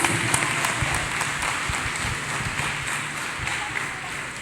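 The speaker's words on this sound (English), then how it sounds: "Let us clap hands for Jesus Christ, people of God. Clap hands for Master Jesus." Church congregation clapping hands together in praise, a steady dense patter of many hands throughout, with voices and a low musical drone underneath.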